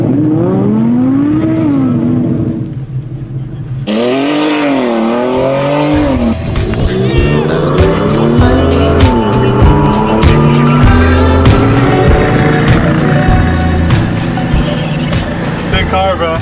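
Audi R8 sports car at a Cars & Coffee meet, loud engine revving and roaring past amid other cars' exhaust notes, with crowd chatter and people talking throughout.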